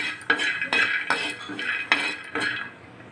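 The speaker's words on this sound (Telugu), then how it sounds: "టేస్ట్ చూడండి ఫ్రెండ్స్ కొద్దిగా పల్లీలు అయితే వేయించుకుంటున్నాము" Peanuts roasting in a pan for chutney, stirred with a metal spoon that scrapes and clinks against the pan about six times in a steady rhythm. It is close and clear, with no voices.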